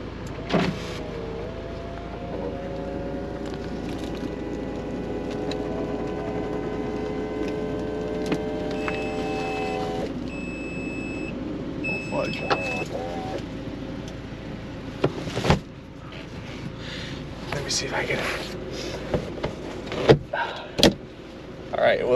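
A salvage car's convertible top motor whirs steadily for several seconds, followed by clicks, latching thuds and door-like knocks inside the car, with occasional faint talk.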